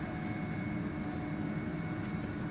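Remote-controlled Airbus A330-600 scale model airplane in flight: a steady, even engine roar with a faint high whine, constant in loudness throughout and heard without any voices.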